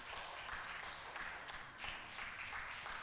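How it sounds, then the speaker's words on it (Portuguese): A church congregation applauds steadily, a soft, distant wash of many hands clapping for a few seconds without pause. "Quem pode dar uma salva de palmas para ele?"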